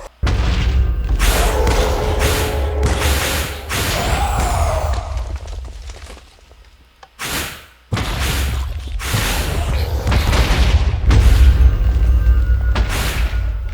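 Area explosion from the Star of Valor item in the Minecraft Engender mod, a series of loud booming blasts and thuds separated by brief gaps, dense and close.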